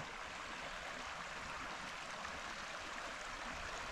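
Steady, close rushing of a low creek flowing over rocks, a continuous bright hiss of water with no voices.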